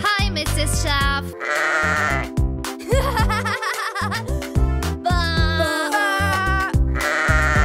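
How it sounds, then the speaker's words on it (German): Sheep bleating in a children's farm song, repeated wavering bleats alternating with strong musical accompaniment, loud and close throughout. "Oh, schaut, mein Lieblingstier, ein Schaf."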